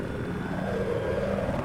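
Attack helicopter in a multiplayer video game match: a steady, dense rotor and engine drone with a low rumbling throb, continuous and fairly loud throughout, with no voices.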